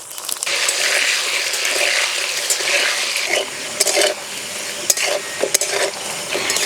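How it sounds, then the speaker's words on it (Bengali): Potatoes frying in hot mustard oil in a wok give a continuous close sizzle, broken by repeated scraping and clattering stirring strokes toward the end. No one talks. "আলু লাল লাল করে ভেজে নিলাম।"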